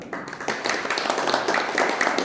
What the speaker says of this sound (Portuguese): Palmas para Bruno e para Mário